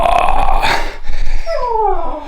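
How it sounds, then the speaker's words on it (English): A pet dog howls and whimpers indoors in a home, with drawn-out rising and falling wails that bend across a couple of seconds after an initial growl-like burst, close and fairly loud. "Holly, listen to that howling."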